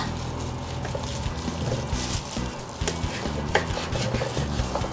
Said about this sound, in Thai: เราก็จะหั่นหมูสามชั้นของเรา เป็นชิ้นคำๆแบบนี้อีกทีหนึ่งนะคะ